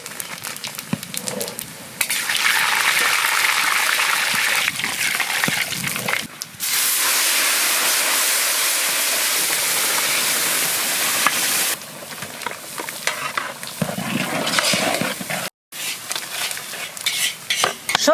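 Dried red chillies and panch phoron sizzle loudly in hot mustard oil, a steady bright frying hiss with stirring and utensil scrapes that drops out briefly, then surges back for a long stretch, close and without talk.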